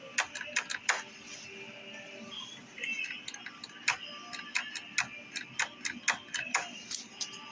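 A racing mower's starter solenoid clicks repeatedly in sharp, irregular bursts without the engine catching, close and fairly quiet, a series of dry ticks over faint background.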